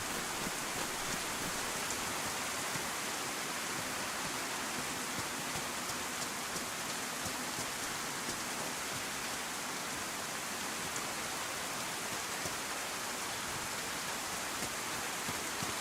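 Steady rain falling, a dense, even hiss of drops on surfaces that stays constant and fairly loud for the whole stretch, with no voices.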